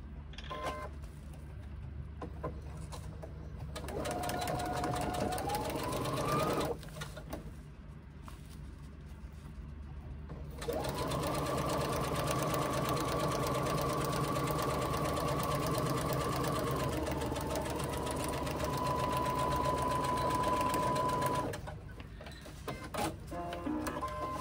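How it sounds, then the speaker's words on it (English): Sewing machine stitching the short sides of fabric pocket pieces together with a 3/8 inch seam, running in two long steady bursts with a brief pause between, close and alone without talk. "And we're going to sew the two short sides together."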